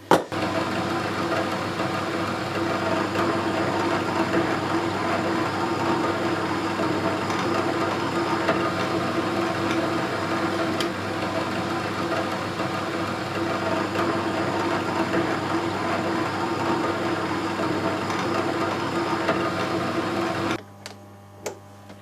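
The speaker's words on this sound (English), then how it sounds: "I've drilled all the holes in that plate, faced it off again to get rid of the remnants of the holes" A metal plate is drilled with holes on a machine, producing a continuous steady mechanical grinding drone with a low hum for about twenty seconds before it cuts off into a few faint knocks.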